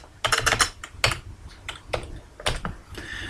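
A number is typed into an Excel spreadsheet on a computer keyboard, giving a short run of crisp, close key clicks in an uneven rhythm, with a few separate presses near the end.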